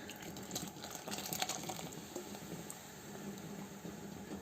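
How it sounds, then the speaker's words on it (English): Water poured into a pan of fried onion while cooking udon, giving a soft, steady splashing and bubbling at moderate level, with no talk. "I am about to add the water with the onion and everything"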